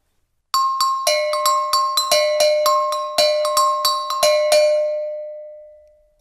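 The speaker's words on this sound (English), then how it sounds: "of go-go bells." Go-go bells, a small percussion instrument from a world percussion class pack, struck in a quick series of about twenty bright metallic clinks at two pitches, close and clear, the last ring fading alone.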